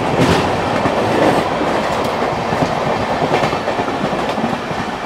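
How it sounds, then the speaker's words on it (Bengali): A Rajdhani express train rushes past at speed on an Indian rail line, with loud continuous rumble and rapid clickety-clack of wheels over rail joints throughout, close by and with no talk. "এবার রাজধানী সোয়াগ দিয়ে চলে যাচ্ছে, তার স্পিডে অবশ্যই যাবে।"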